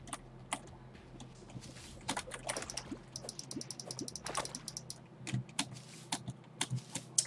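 Rapid, irregular mouse and keyboard clicks while playing Terraria, picked up close by a desk microphone over a faint steady hum, with bursts of quick taps throughout.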